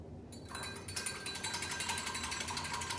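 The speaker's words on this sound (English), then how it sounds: "I'm going to whisk it" A whisk beats an olive oil dressing seasoned with salt and pepper in a bowl, giving a fast, steady run of rhythmic clinks and scrapes up close that lasts the whole stretch, with no voices.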